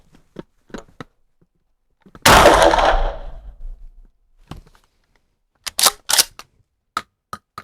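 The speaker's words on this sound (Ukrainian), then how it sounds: "Ну, а я пішла стріляти." One loud, close gunshot from a FORT-500M pump-action shotgun with a booming tail, surrounded by scattered mechanical clicks and clacks, then a pair of sharp racking sounds.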